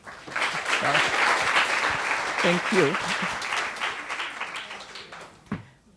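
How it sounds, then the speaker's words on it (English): An audience at the Henriette van Lynden Lecture 2019 gives a warm round of applause to welcome a woman lecturer, steady dense clapping that fades out, with a brief spoken thanks near the end. "may I please ask you all to welcome her with a warm round of applause"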